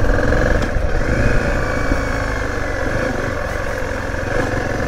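Zontes 350 motorcycle engine pulling at low RPM around 2000, a close, loud, steady mid-pitched thrum that dips slightly and settles into an even chug.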